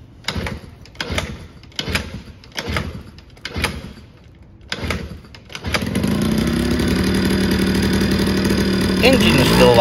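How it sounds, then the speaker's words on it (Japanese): A Honda Motocompo scooter running on home-center pre-mixed mower fuel, fitted with its stock muffler, is worked through several rhythmic starting strokes before the engine catches and settles into a steady, close, continuous running drone. "エンジンの始動はいつもよりスムーズでした。"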